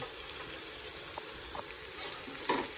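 Garlic frying quietly in oil for Thai chicken larb, a soft steady sizzle with small stirring scrapes and clinks toward the end, heard at low level with no talking.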